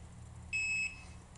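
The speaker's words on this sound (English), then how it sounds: "You should have 3 beep sounds." One short, high electronic beep from a quadcopter during binding sounds clearly against a faint background hum.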